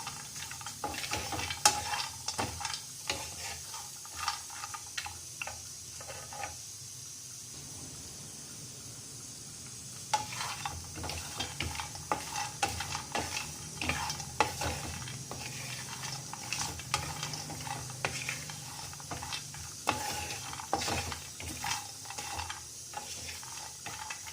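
Stuffed okra roasts in a pan, a quiet, low sizzle broken by frequent clicks and scrapes of a spatula stirring and turning the pieces throughout.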